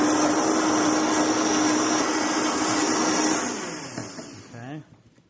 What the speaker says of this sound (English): So let's blend it up.